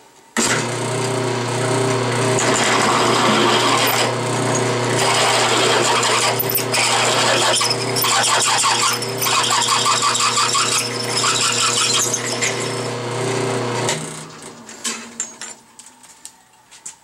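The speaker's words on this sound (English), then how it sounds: "This side should be a little easier on the drill bit." A power drill grinds loudly and continuously into steel on a lower control arm for several seconds, then winds down, leaving a few scattered clicks and taps.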